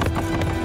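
Quick clip-clop of a horse galloping on top of a train in The Legend of Zorro, a brisk steady rhythm over a low humming drone, ending abruptly.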